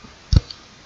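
A computer keyboard key is struck once for a copy-paste shortcut, a single sharp close click followed by a faint softer tick.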